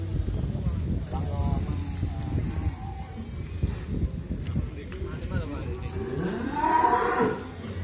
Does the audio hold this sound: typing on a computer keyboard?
no